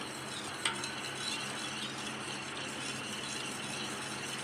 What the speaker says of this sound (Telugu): ఇలా ఉండలు లేకుండా కస్టర్డ్ని మంచిగా మనం మిక్స్ చేసుకున్నామండి